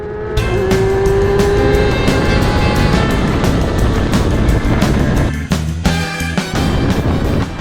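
An F1000 race car heard onboard as it races into turn 1, a loud, close, continuous engine roar with rising revs, sharp gear-shift breaks and a brief dip before the roar resumes.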